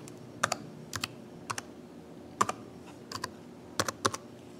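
Someone types on a computer keyboard, entering a disk command at a Windows run prompt. Scattered single keystrokes and short quick clusters sound close, over a faint steady hum, with no talking.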